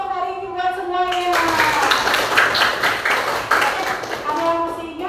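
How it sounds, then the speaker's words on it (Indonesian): A group breaks into applause, with loud, dense clapping that lasts a few seconds, framed by a person talking just before and after. "Oke, kasih aplaus dulu untuk hari ini buat semuanya."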